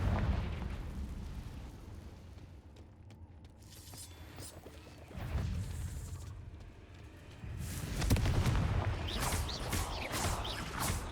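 The Confringo fire spell from Hogwarts Legacy bursts in heavy booming blasts, with a rumbling impact near the start, another around the middle and a louder crackling explosion toward the end, separated by quieter low rumble.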